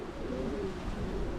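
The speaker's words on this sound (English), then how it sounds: "That's the last pigeon I got out of it." A single pigeon gives a soft, low coo, faint and close, against quiet background noise with no talking.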